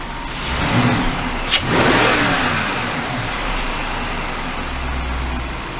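A BMW 645ci convertible being rebuilt revs up from idle, rising to a short burst and settling back into a steady, close idle with a low rumble.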